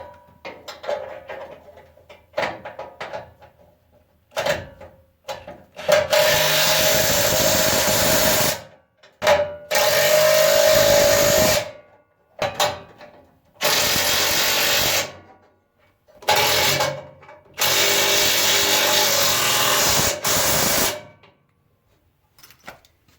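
Short bursts of a power tool driving bolts into a DIY custom bumper come in repeated loud spells of a second or two, broken by quiet gaps and a few clanks of metal.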